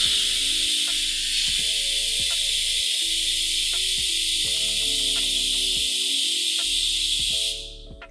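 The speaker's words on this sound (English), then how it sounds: "the air compressor automatically turns itself on, and once it reaches its desired air pressure that we have set in here, it'll automatically shut itself off" A pneumatic air compressor switches itself on and runs steadily, giving a loud continuous hiss over a low motor hum with rhythmic mechanical clicks; the sound cuts off sharply near the end.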